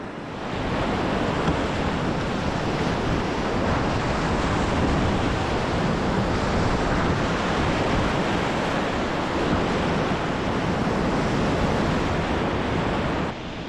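Class 3-4 whitewater rapids on the South Fork Salmon River in Idaho's wilderness, a continuous loud roaring rush of churning water with no breaks, broad and steady throughout.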